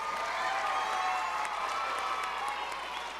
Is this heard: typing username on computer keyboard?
no